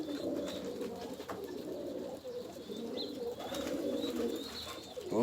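Pigeons cooing in a loft, soft low repeated coos overlapping in a gentle rhythm against faint background noise.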